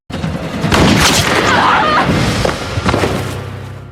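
Gunshot in a film as a gang member shoots a fleeing woman in the leg, a loud close burst of blasts and thuds crowding together over about three seconds before fading.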